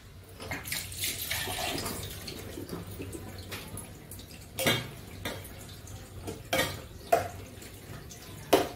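Tap water running and splashing while rice is rinsed in a kitchen, low steady flow broken by several sharp splashes and clinks of the vessel.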